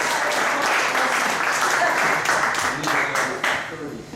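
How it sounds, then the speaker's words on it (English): Audience at a mentalist's stage show claps for a volunteer, a sustained round of fairly loud applause that tapers slightly toward the end, with voices mixed in underneath. "Nice round of applause for it"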